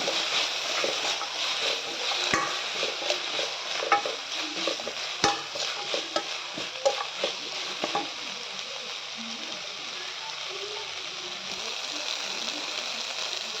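Sprouted legumes frying in oil in a pan, a soft steady sizzle with scattered stirring clicks and scrapes, close but fairly quiet, easing into a gentler hiss in the second half with no talking.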